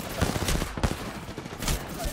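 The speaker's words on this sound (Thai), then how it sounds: "เอามอเตอร์ยิงข้างบน" Mortar fire in a shooting video game, a dense series of rumbling blasts and booms under continuous game noise.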